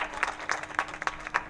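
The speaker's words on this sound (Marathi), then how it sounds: "त्यांच्यासाठी परत एकदा जोरदार टाळ्या वाजवा." Loud clapping from a kirtan audience comes in a handful of sharp, uneven bursts over a short stretch, close and fairly prominent against a faint background.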